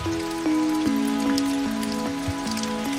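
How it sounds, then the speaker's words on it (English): Steady rain falls in a loud, dense hiss over a sustained tonal hum that shifts pitch in short steps, with no speech. "fall down to create rain,"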